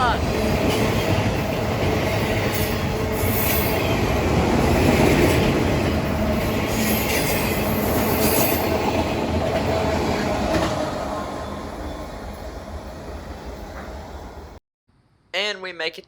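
CSX freight train Q442 rolls through Dade City toward Waycross, a loud, steady rumble of passing railcars with wheel clatter and faint squeal lasting most of the time before cutting off abruptly near the end.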